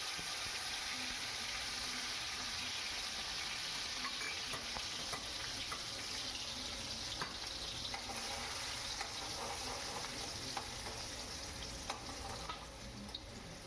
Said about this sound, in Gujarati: આ ચણાની દાળ છે એને તળી લઈએ